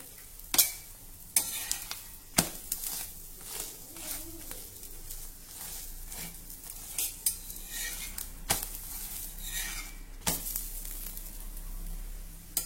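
A paratha roasts on a hot pan with fresh coriander scattered on top, giving a soft, steady sizzle broken by several sharp clinks and scrapes of a utensil against the pan.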